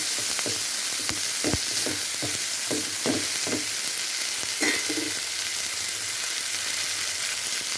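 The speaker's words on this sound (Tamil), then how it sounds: "அவ்வளோதாங்க நல்லா வதங்கிருச்சு இதை ஆஃப் பண்ணிவிட்டு ஆற வச்சு அடிப்போம்" Ingredients for a chutney are sautéed in a pan, giving a steady hissing sizzle with a run of quick scraping stirs early on, close and even in loudness.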